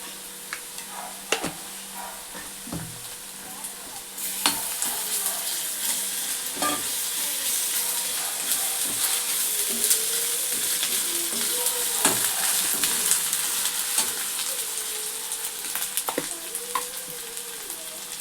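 Ginger-garlic paste frying and being stirred in a pan for a tamarind-leaf dried fish curry, a steady sizzle with scraping stirs and clinks close up, no talking.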